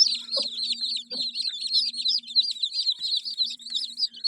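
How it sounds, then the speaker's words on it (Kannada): A desi hen clucks softly and repeatedly, calling her chicks to water, while many newly hatched chicks peep in a continuous high chorus close by. "ತಾಯಿ ಕೋಳಿ ಅದಕ್ಕೆ ಕರೆದು ತೋರಿಸುತ್ತೆ"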